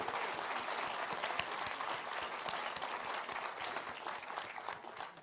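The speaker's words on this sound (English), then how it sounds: "Round of applause." An audience gives a dense, steady round of clapping at the closing session of a two-day community event, Big Local Connects 2021, sustained at even loudness for the whole stretch with no talk over it.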